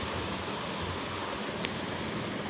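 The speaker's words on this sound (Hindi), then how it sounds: "बहुत तेज आंधी आ रही है" Strong wind storm with rain, a steady broad roaring rush at moderate-low level, constant throughout with no voices.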